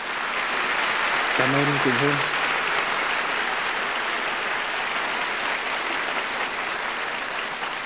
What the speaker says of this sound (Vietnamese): xin quý vị một tràng pháo tay cho nhạc sĩ Hoàng Trọng Thụy